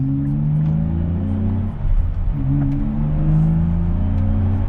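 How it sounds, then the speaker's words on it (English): A 2023 Nissan Z engine with an HKS full dual muffler cat-back exhaust drones steadily with a deep, throaty exhaust rumble, a brief dip and surge in the middle, heard from inside the car. "The car actually has personality now. You can hear exhaust."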